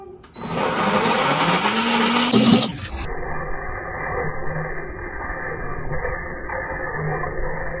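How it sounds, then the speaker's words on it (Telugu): An electric mixer grinder blending chopped onions and tomatoes roars loudly and steadily, then abruptly shuts off, leaving quieter background noise. "అవి ఈ మిక్సీలో వేసి గిర్రున్నది ఇప్పుడు."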